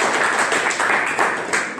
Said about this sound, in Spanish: Aplausos para el compañero.